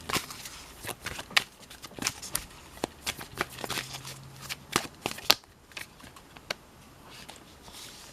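Tarot cards being shuffled close by, quick papery riffles and taps in an irregular rhythm, fairly faint and without talk.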